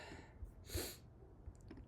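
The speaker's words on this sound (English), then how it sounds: "I'm going to have to sneeze here." A single human sneeze, a quick sharp burst of breath near the microphone in a quiet room, with faint breathing around it.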